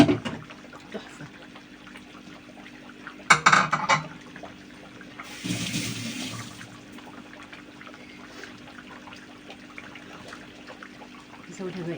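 Water is poured into a pot of simmering food in a home kitchen, a short splashing burst followed by a longer hissing pour, with a voice talking around it.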